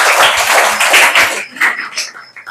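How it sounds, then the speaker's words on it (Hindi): Children in a classroom clap together loudly for about a second and a half in a dense burst that ends abruptly, followed by scattered quieter claps and a few voices. "जोरदार ताली बजा दीजिए।"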